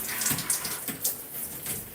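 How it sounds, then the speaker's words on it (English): Tap water runs steadily into a tub or sink while hair is rinsed during a wash-and-go routine, a continuous close splashing flow with soft irregular surges and no talking. "turn this water down some because it gets warmer and warmer"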